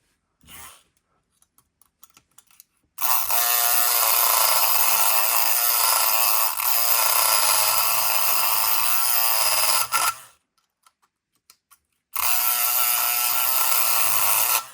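A Multipick Kronos electric pick gun buzzes loudly and continuously against a rim or mortise lock cylinder in two long bursts, with a short pause between them and a few light clicks before the first.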